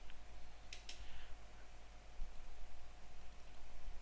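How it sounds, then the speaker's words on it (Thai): A computer mouse clicks while drawing a footprint overlay in Altium circuit design software: a pair of crisp clicks early on, then several fainter scattered clicks over a steady low hum and background hiss. "หรือเราจะใช้เมาส์ไปคลิกก็ได้"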